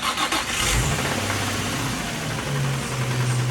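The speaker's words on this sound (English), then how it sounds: "Regardless of how this Nissan engine sounded, I still wanted to drive this vehicle" A Nissan car engine from a car found abandoned in the woods cranks and catches, then runs with a rough, uneven idle, close and fairly loud throughout.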